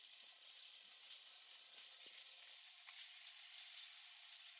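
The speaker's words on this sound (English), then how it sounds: "We're gonna sear it a bit" A chicken roulade searing in a pan gives off a steady, quiet sizzle with soft hissing and a few faint ticks and pops throughout.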